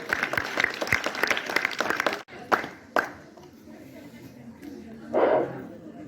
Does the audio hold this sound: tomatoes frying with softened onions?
no